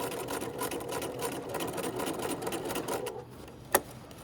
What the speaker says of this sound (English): when you reach the bottom, you're going to back stitch about 3 stitches up